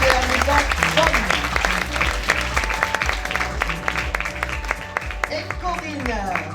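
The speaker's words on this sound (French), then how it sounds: "Vous pouvez l'applaudir" Applause from the audience at a charity fashion show against cancer, a continuous mass of clapping heard under loud music and a voice talking throughout.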